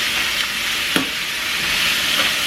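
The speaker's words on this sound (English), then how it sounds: "I'm just going to kind of stir fry this" Bell peppers and onions stir frying in a pan: a loud, continuous sizzle with one brief clatter of stirring near the middle.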